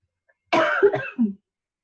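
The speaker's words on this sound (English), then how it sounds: "while I clear my throat" A single short throat clearing, a rough harsh burst followed by a brief lower grunt, close and alone in an otherwise quiet moment.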